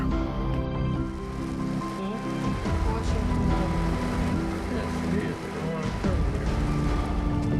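Heavy rain drums steadily against a vehicle, a constant dense hiss with a low road rumble underneath and no pauses.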